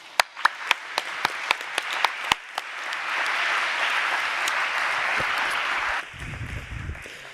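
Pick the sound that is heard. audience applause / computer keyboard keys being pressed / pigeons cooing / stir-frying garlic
audience applause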